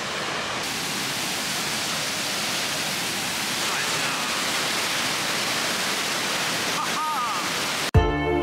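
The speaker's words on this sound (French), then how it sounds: "On va aller voir cette petite cascade" A small waterfall in the Scandinavian mountains near Hemsedal gives a constant broadband rush of falling water, steady and fairly near, with a brief handling knock at the very end.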